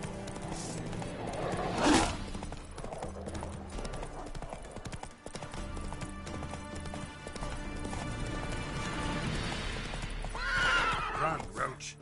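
Roach, a horse in The Witcher 3, gallops with rapid, continuous clip-clop hoofbeats and lets out loud whinnies near the start and again toward the end, and a voice speaks briefly.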